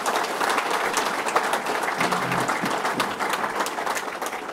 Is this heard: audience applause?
yes